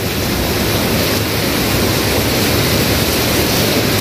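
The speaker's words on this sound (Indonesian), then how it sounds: "Aduh, hujannya deras." Heavy rain pours down outside a small grocery stall in a steady, dense roar of broadband wash that stays loud and even throughout, with no talking.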